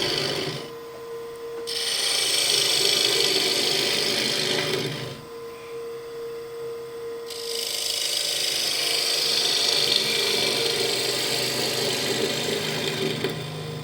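A wall gouge cuts into a spinning wooden box blank on a lathe with a steady, loud, close scraping hiss. The cutting stops briefly twice and then resumes over the constant hum of the lathe motor.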